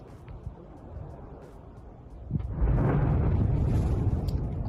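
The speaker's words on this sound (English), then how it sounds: "And a loud explosion." Distant strike footage carries a low, steady rumble that swells into a deep, booming roar halfway through and keeps rolling, like a far-off explosion echoing across open ground.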